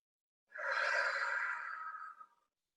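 A slow, relaxed breath drawn in and let out during a guided relaxation exercise, a soft airy whoosh lasting about two seconds, close and clear with no talking.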